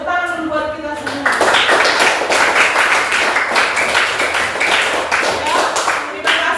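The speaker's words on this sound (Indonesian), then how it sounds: "tepuk tangan dulu buat kita semua" A seventh-grade class breaks into loud, dense clapping right after a teacher's voice, the applause continuing steadily close by for several seconds.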